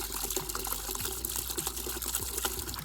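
Liquid pours steadily from a roughly 3.5-gallon jug onto a garage floor, a continuous close splashing gush with small spatter and trickle sounds and no talk.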